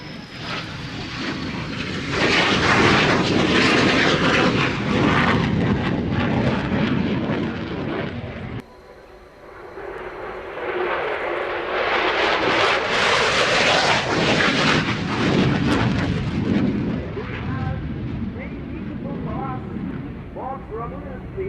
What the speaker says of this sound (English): Solotürk will salute you by the nose of the plane. Solotürk is flying for English.